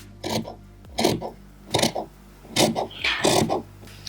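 Layered fabric of a bodysuit being trimmed, heard as five close, short rasping cuts in an uneven rhythm with brief silences between, and no talking.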